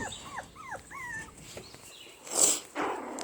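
Seven-week-old Pomeranian puppies at play, letting out thin rising whimpers and yips near at hand, followed by a burst of rustling from a crinkle toy.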